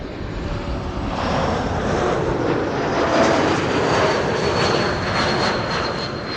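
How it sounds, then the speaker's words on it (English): A KLM airliner, flight 1136 from Dublin, lands at Amsterdam Schiphol on a sunny day, its engines roaring loudly and steadily with a broad rushing whine that swells slightly midway. "This is KLM flight 1136 arriving from Dublin, Ireland."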